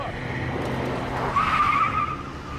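Car tires squeal in a sharp skid as a vehicle speeds away, the engine roaring close by and the screech rising midway before fading slightly.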